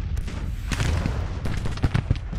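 Cannon fire booms during a Civil War battle at a bridge crossing in the Grand Tactician strategy game, with several dull thuds and rumbling blasts mixed into continuous battle noise.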